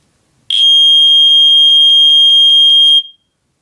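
A household smoke detector sounds its test alarm, a piercing, very loud rapid electronic beeping that runs steadily for about two and a half seconds and then cuts off, heard close up with nothing else around it.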